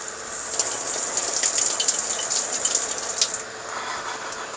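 Hot water gushes from a shower tap in an off-grid shower, a steady close hiss of running water with spattering, easing slightly toward the end.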